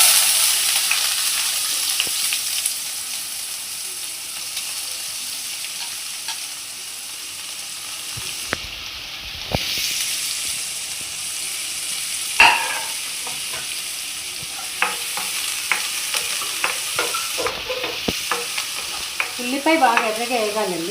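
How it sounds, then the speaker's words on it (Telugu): Onions frying in a pan for palak paneer, a steady sizzle running throughout with occasional sharp stirring clinks and scrapes, close and moderately loud, with no one talking. "ఉల్లిపాయ బాగా ఎర్రగా వేగాలండి"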